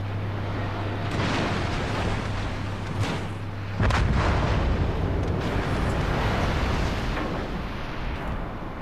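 The battleship North Carolina fires broadside guns in a naval video game: heavy booming blasts roll out in overlapping waves over a low rumbling bed, with a strong burst near the middle.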